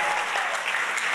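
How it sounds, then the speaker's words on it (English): Congregation clapping steadily in a church service, a dense, continuous wash of hands filling the room without pause. "Can we clap to Jesus?"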